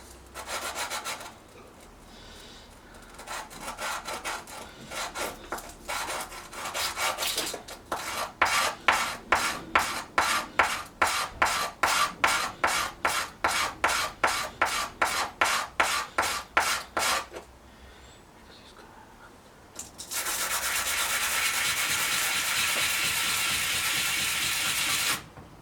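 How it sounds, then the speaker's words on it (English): Scrubbing heavy corrosion off a seized, corroded bicycle derailleur: soft rubbing gives way to a long run of fast, evenly spaced rasping strokes, then a pause and a steady, continuous loud hiss of scrubbing close by, with no talking. "Just try and get the heaviest of the corrosion off it."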